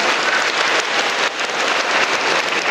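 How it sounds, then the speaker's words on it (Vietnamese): Loud, dense applause from a large church congregation fills the space, steady and sustained with no voices over it. "vỗ tay thật to. To hơn nữa nào."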